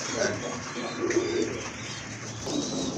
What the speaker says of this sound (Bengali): এটা হচ্ছে আপনার নট কবুতর